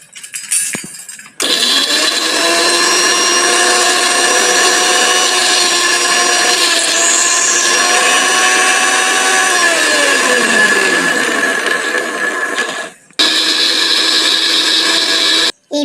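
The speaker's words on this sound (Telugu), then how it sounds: "వేసి దీన్ని బాగా మిక్సీ పట్టుకోవాలి." A mixer grinder whines loudly as it grinds green chillies, ginger, curry leaves, coriander and carrot, a sustained motor roar with shifting pitch that pauses briefly, then restarts after a short gap.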